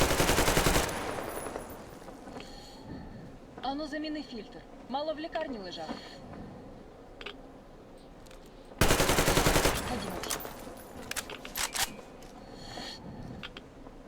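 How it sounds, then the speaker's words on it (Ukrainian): Bursts of rapid automatic Kalashnikov rifle fire in the video game Metro Exodus open and recur midway, loud and rattling, with people talking in between the volleys. "Береш калаш і просто в неї стріляєш."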